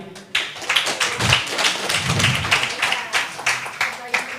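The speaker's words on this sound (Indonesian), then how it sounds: "Kita tepuk tangan sekali lagi." An audience at an Indonesian religious question-and-answer gathering claps hands in a steady, dense burst of many overlapping claps, moderately near, with some talk underneath.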